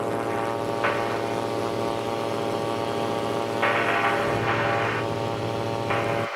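A Buccaneer II light aircraft in flight, its propeller engine droning steadily and loudly from close inside, with a constant buzzing hum that shifts slightly in tone.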